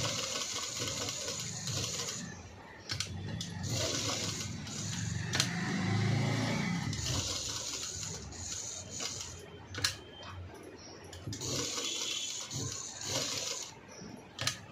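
An electric sewing machine stitches cut work on a V-neck blouse in close, whirring bursts that start and stop repeatedly, with short pauses and a few clicks between runs.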